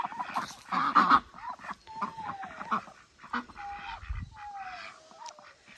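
Ducks in a duck pen on a winter homestead near a barn, several honking, nasal calls rising and falling at moderate distance, scattered across a few seconds with quiet gaps.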